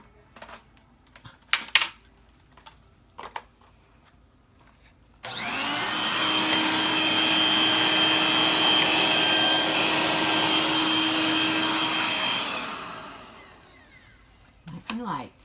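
A Dirt Devil stick vacuum with its crevice tool attached starts abruptly and runs at a steady, loud whine for about seven seconds, then winds down. Brief clicks and handling knocks come before and after it.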